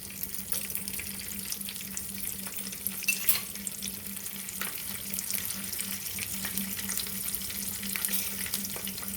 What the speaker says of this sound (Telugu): పచ్చిమిర్చి కూడా ఇలా చీలికిల్లా చేసి వేయించుకోవాలి.